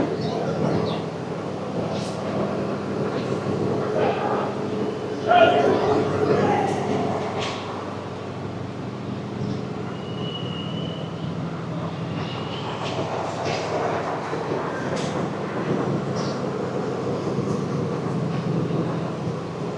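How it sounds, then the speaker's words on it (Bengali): A train pulls out of the large Comilla railway station, its broad, steady rumble and rolling noise filling the space with scattered clanks and station sounds, continuous and fairly loud throughout. "এই তো আমরা যেটা আসছি ট্রেন, ওটা ছেড়ে দিচ্ছে।"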